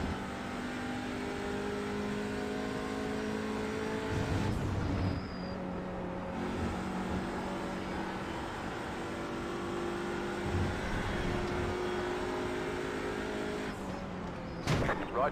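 A TCR touring car lapping Silverstone in the iRacing sim, heard as a steady loud engine drone with shifting gears, a few sharper surges where nearby cars close in and pass, and a spotter's radio voice talking over it.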